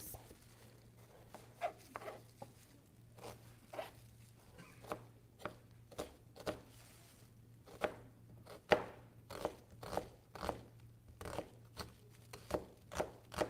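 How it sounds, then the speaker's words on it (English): A knife chops onions finely on a cutting board, a fast run of crisp, close taps in uneven bursts over a steady low hum, with no talk. "so we're going to chop our onions."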